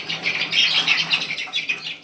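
Young Aseel chicken chicks, about two months old, peep in a steady run of high, close chirps with no talking.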